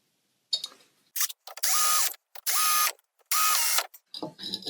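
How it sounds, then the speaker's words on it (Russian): A power drill drives long bolts into a drainage pump in bursts: a short test whir, then three sustained runs of the motor with ratcheting clicks, separated by brief pauses and handling noise. "Где наша супер дрель?"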